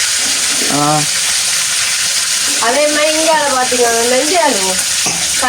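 Steady sizzling of food frying in a pan fills the background while people talk over it.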